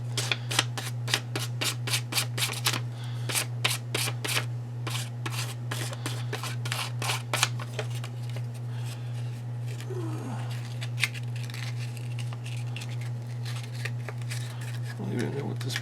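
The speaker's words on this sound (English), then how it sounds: "fantastic little sander" Steady scratchy strokes of a small sander working a resin prototype with wet-dry paper, close and rhythmic at first, then thinning out, over a constant low hum.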